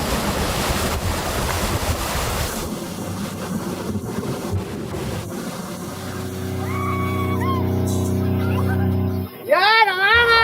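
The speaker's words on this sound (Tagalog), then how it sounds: "May alon!" Wind-blown sea surf and waves rush over the microphone near an island, then a steady engine-like drone takes over as people shout over it.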